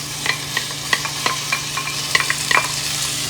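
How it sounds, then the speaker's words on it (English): Rice sautés with onion, garlic and cumin in a hot pan for Mexican rice, a loud steady sizzle broken by a regular series of light spoon scrapes and taps, close up and without speech. "you're gonna mix and saute that for about 5 minutes"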